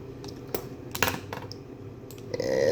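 Search words typed on a computer keyboard, a few scattered sharp key clicks and a short burst of taps at close range, with quiet gaps between them.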